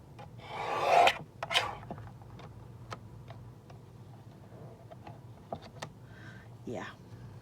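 A desktop paper trimmer slices half an inch off a piece of card: a scraping, rasping cut bursts up near the start, followed by small clicks and handling noises in a quiet room.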